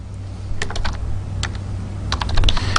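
Fingers type code on a computer keyboard in short bursts of clicky keystrokes, close and clear over a low steady hum, with quiet gaps between clusters.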